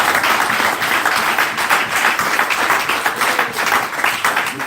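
A church congregation applauds loudly and continuously, many hands clapping in dense, slightly rhythmic bursts, with scattered cheers mixed into the ovation.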